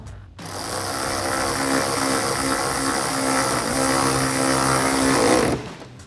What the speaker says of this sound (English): tighten that down with a 10mm socket